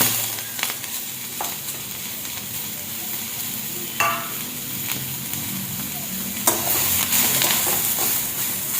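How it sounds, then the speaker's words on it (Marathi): Onion and tomato roast together in a pan for a village-style egg curry, a steady close sizzle with a few spatula scrapes that grow louder and more hissing toward the end. "आता आपण कांदा आणि टोमॅटो दोन्ही एकत्र भाजून घेऊया।"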